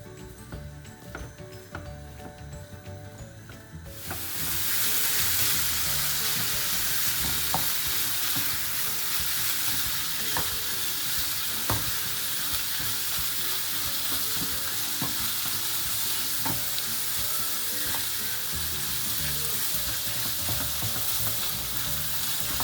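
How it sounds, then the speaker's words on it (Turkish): Minced meat frying dry in a pan with no oil, a steady close sizzle that jumps louder after a few seconds, broken by the scrape and clack of stirring against the pan. "Kıymayı yağsız bir şekilde kavuruyorum."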